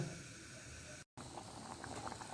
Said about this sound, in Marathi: मोठा गॅस ठेवायचं त्याला एक उकळ येऊन द्यायची हे बघा